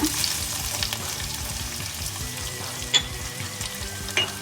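Ingredients for a ripe mango gojju frying in a pan until golden brown, giving a continuous close sizzle with occasional stirring scrapes and a couple of sharper clinks near the end.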